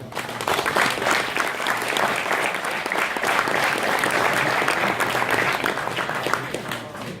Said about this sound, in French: On peut encore une fois vraiment les applaudir